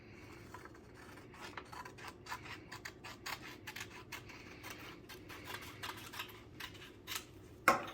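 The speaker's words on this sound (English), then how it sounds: "I'm just going to use my scissors and cut right along here." Scissors slice along a sheet of paper while making a paper airplane, a faint, close run of quick snipping and rustling strokes ending in a sharper final cut, no speech.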